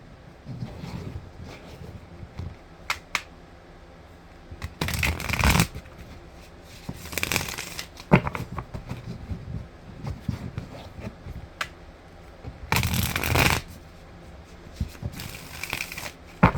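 Tarot cards being shuffled in quick repeated riffling bursts, close and crisp, separated by quieter pauses with light handling noise.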